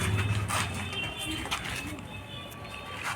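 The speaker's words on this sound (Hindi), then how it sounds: "कैसा लगा राजा भाई कबूतर?" Pigeons kept for sale near a vegetable market in Bhopal coo softly and repeatedly in low rounded calls, close by, amid outdoor background noise.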